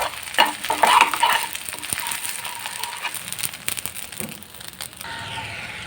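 Eggs frying in a pan while being stirred, a loud close sizzle with scraping and clattering stir strokes in an uneven rhythm, the hiss easing toward the end.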